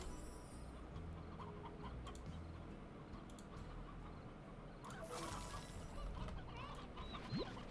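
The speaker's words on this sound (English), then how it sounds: "Alright, let's get these chickens in here." Chickens in the video game Slime Rancher cluck softly inside a coop over steady game background noise and ambient music, a few faint clucks scattered through, with no talk.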